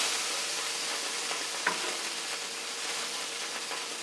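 Onions frying in oil in a pan on the stove, a steady close sizzle that holds even throughout, with one brief stirring clack partway through.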